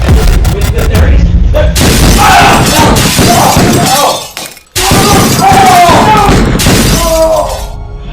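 Loud gunshots with sharp, shattering cracks ringing out close by, in several heavy bursts separated by a brief silence, amid overlapping shouts and talk.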